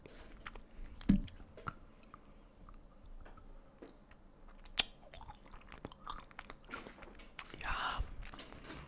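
Chewy chai-flavored caramel is bitten and chewed close to the microphone in a whispered ASMR setting, with a sharp bite early, then soft sticky mastication and quiet squishing that swells near the end.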